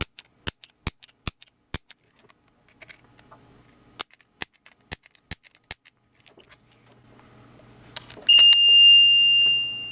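A high voltage transient generator fires a series of sharp, loud clicking snaps in two quick bursts of five, followed by a low hum and a rising high electronic tone near the end.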